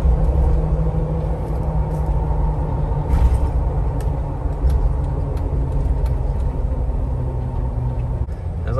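A newly bought Jeep with a spare tire on the back and a new front drive shaft, driving home. Continuous road rumble and engine drone fill the cabin throughout, with a few brief knocks.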